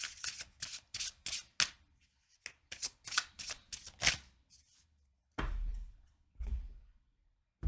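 A deck of fairy oracle cards is riffled and shuffled in quick close bursts of papery flutter, followed by a few heavier slides and slaps as cards are drawn, with no voices.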